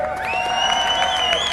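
A crowd cheers and shouts at the World Time Attack Challenge 2012 car racing event, a continuous loud roar of voices with whoops rising above it, and an announcer's voice carries over the top.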